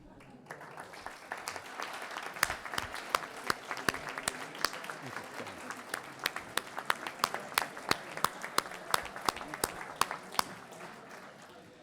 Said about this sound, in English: Would all the public officials please stand so we may applaud you?